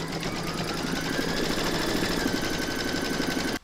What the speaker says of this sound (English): pop your hook back into your machine and stitch round number 3